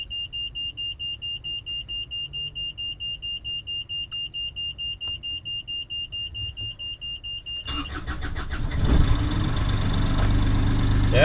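A sailboat's diesel engine, just back from a fuel filter change, is started: a steady pulsing warning beep runs for several seconds before the engine cranks and catches into a loud, rough, rattling idle.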